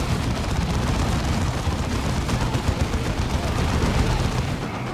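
Battle in the video game Dawn of War 2 as orcs are torn apart: a dense, continuous roar of gunfire and explosions, loud and sustained with no pauses.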